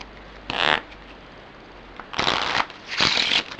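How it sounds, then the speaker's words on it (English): Three riffle shuffles of soft Bicycle 125th Anniversary Edition playing cards, soft papery flutters close by, the first short and the last two longer, separated by quiet. "I really do like shuffling with these cards."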